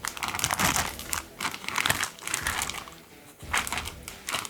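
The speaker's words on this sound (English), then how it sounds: "for these steaks, I'm gonna be using these pre-sealed bags" Plastic pre-sealed vacuum sealer bags for steaks being handled up close, giving bursts of crinkling and rustling with brief pauses and no talk.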